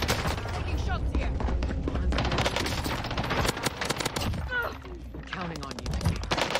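Rapid automatic gunfire in the Warzone video game, dense, loud bursts and fusillades of shots crackling almost continuously, with a voice briefly heard among them.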